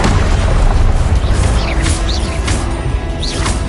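A Confringo blasting-spell explosion in Hogwarts Legacy makes a loud, dense boom with crashing debris. Sharp whooshing accents come through over a sustained rumble.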